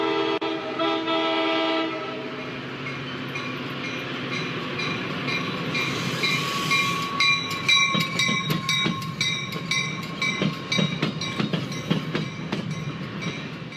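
Metra commuter train at Clybourne station in Chicago, where the Northwest and North lines diverge: a horn blast opens, then steady rolling rumble with rhythmic clickety-clack and squealing wheels as cars pass close by.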